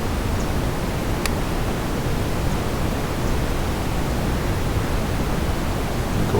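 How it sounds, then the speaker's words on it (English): A waterfall pours down on a morning, giving a steady, dense, close roar of rushing water that holds an even level throughout with no voices. "you can really hear that waterfall just pouring down this morning"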